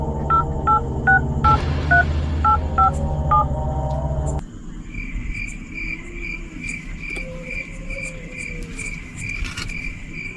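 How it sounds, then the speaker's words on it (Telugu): A phone's keypad dialing tones beep in a quick series of short, clear pairs for about four seconds, followed by a steady high ringback tone pulsing over a loud chorus of night crickets and insects outdoors. "అరే రాత్రి అయిందిగా, ప్రణయాన్ని ఫోన్ చేద్దామా?"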